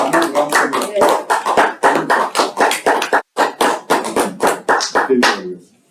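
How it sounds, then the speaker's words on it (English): A Toastmasters meeting audience claps to welcome the Toastmaster, a dense round of applause that is loud and close, continuing steadily for several seconds before fading out. "Let us all give a good round of applause and welcome"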